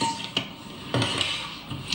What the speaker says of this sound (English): Just keep turning the spoon round and down until everything is gently combined.